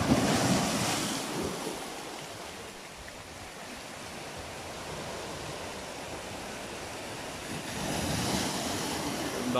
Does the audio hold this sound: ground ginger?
no